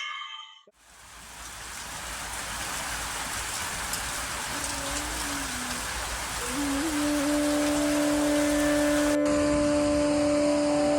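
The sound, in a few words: heavy rain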